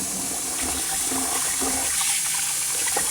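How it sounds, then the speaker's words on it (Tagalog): Glutinous rice being rinsed in water before cooking, a loud, close continuous sloshing and swirling of water around the grains, with no talking. "Siyempre, hugasan muna natin para malinis ang ating malagkit."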